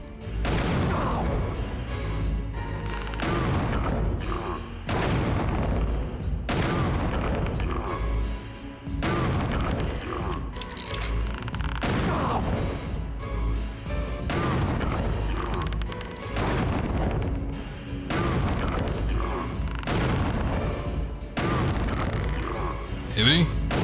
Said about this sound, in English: Shooting his gun stops him from shooting